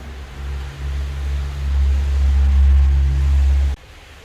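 A car engine rumbles deep and loud as the car is driven inside, swelling slightly, then cutting off abruptly into near quiet.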